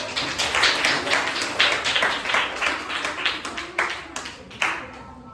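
Audience at a school Guru Nanak Gurpurab celebration claps for a performer, a fairly close patter of uneven hand claps with louder bursts that tapers off near the end.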